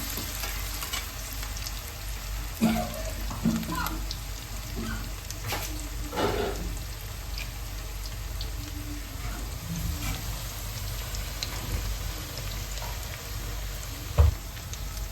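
Garlic, ginger and green chillies fry in a pan for veg noodles, a steady close sizzle with occasional stirring scrapes and clinks over about fifteen seconds, no talking.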